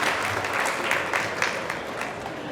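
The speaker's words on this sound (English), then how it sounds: "Let's give Len a round of applause" A conference audience at a coin collectors' fair opening ceremony gives sustained applause, a steady wash of clapping at moderate loudness throughout with no pauses.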